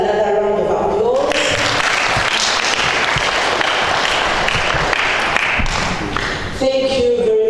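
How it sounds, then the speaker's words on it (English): Sustained audience applause fills a memorial lecture hall after closing remarks, dense steady clapping from many hands; brief speech is audible at the start and end. "Mama Ann deserves another round of applause"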